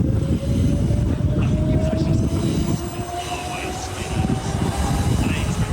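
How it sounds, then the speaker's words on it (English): An electric passenger train pulls out of Ascot Station in Brisbane on the Doomben line: a loud, close rumble of wheels and carriages with a rising electric motor whine over it. "You can hear the electric engines whir up as it goes."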